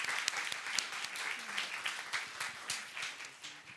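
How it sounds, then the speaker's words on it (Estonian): An audience at a panel discussion on educational inequality claps together, a dense patter of many hands that gradually thins and fades, with faint talking in the room. "Teeme aplausiga."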